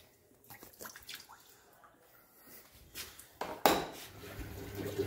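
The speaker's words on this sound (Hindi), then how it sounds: "अब मैंने वहाँ से जहाँ से फिल्टर निकाला वो देखो कैसे पानी आ रहा है ऊपर ऊपर को" Water wells up and trickles from the drain-filter opening of a washing machine during cleaning, with soft gurgling and splashing, a sharp clatter partway through, then a steady low wash of flowing water.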